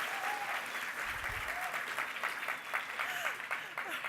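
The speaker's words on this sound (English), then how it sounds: "Ladies and gentlemen, I'm giving you a warm round of applause." An audience at a public health forum event applauds, steady moderate clapping from a crowd heard from a distance, with faint voices and brief tonal sounds over it.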